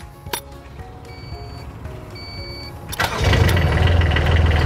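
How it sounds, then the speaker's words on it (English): A Weedoo aquatic weed harvester boat's engine cranks with a few light clinks, catches about two-thirds of the way in, and settles into a loud, steady, rumbling idle close by. "Now we'll go ahead and start the boat up."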